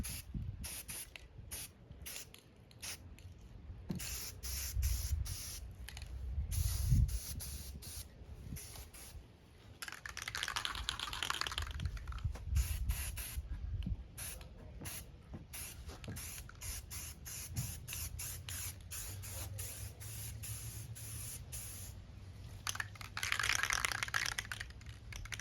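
Spray gun painting a Harley-Davidson motorcycle fuel tank, with repeated bursts of hissing spray starting and stopping in an uneven rhythm, close by, amid light clicks and handling noises and no talk.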